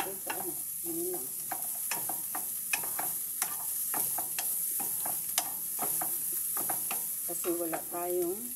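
Vegetables for pakbet sautéing in a pan, a steady sizzle broken by repeated sharp scrapes and clacks of a stirring utensil, with a voice speaking briefly now and then over the cooking.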